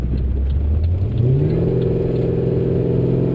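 A Whipple-supercharged VE Maloo with a Turbo 400 transmission drives around town, its engine droning steadily and then rising in pitch as it accelerates, close and loud with no talk over it.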